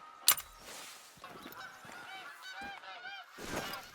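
Honking from a flock of white geese in a hunting video game: a sharp opening call followed by repeated, overlapping nasal honks that stay fairly close and steady, swelling again near the end with no talking.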